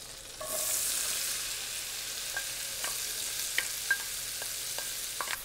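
Onion sizzles steadily in a pan of butter and oil, a soft, continuous hiss broken by a few light clicks and taps from stirring.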